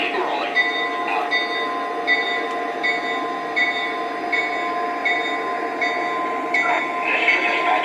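Train engines roll onto a main rail line with a steady rumble, metallic hum and repeated clicking and squealing tones, loud and continuous throughout.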